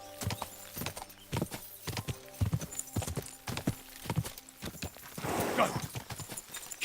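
Hooves of the horse Roach clip-clop in a quick rhythmic run in Kingdom Come: Deliverance II, sharp close thuds with a snort or whinny near the end and brief speech.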